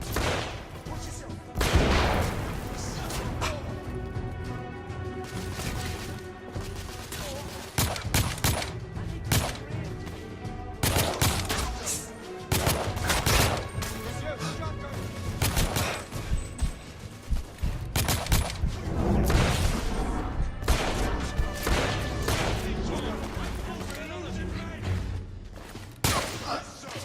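Sustained gunfire from a firefight in the video game The Order 1886, with dense bursts of shots and heavy thumps filling the whole stretch, loud and continuous, with music and a voice mixed underneath.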